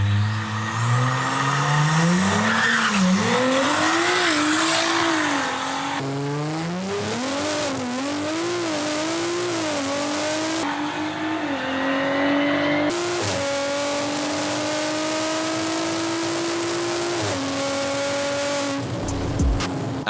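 A tuned Audi TT launching hard down a drag strip, its engine climbing loud and close through rising, wavering revs with repeated gear changes, then holding a steady high drone before cutting off near the end.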